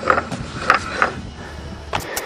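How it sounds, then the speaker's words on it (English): A wheel on the broken axle of a 1990 Buick Century is turned by hand, producing a few scattered metallic clicks and grinding scrapes over a low rumble, fairly close. "As you can see, I'm rotating the wheel. Sounds horrible."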